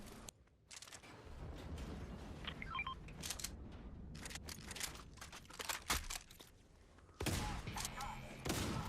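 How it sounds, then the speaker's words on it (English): Bursts of distant gunfire in the video game Fortnite crackle in irregular clusters over a steady background hum, with a louder volley near the end. "We notice some gunshots off in the distance"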